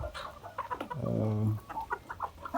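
Livny Calico dual-purpose chickens cluck nearby, one drawn-out low call standing out among short clucks, with no one speaking.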